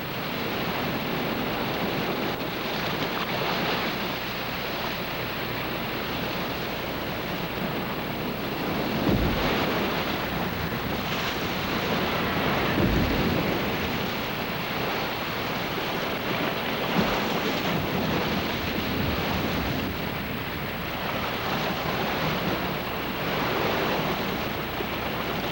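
Ocean waves roll in where young penguins first enter the sea, a continuous broad roar of surf mixed with gusting wind noise, steady and fairly loud throughout with no voices.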